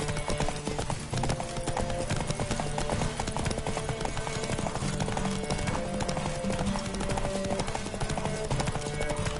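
Rapid, rhythmic hoofbeats of a galloping horse in The Witcher 3: Wild Hunt pound steadily throughout, layered with the game soundtrack and occasional snorting.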